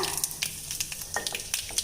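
Crackling, popping sizzle of mustard seeds and urad dal in hot groundnut oil, close up, with rapid irregular pops over a steady frying hiss.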